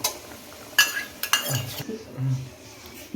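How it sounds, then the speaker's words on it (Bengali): A lid clatters onto a pan of Bengali doi katla fish curry with yogurt, a few sharp metallic clinks and knocks close by, followed by low scraping and settling of cookware. "ঢাকা দিয়ে ঢেকে দিয়ে রেখে দিয়েছি।"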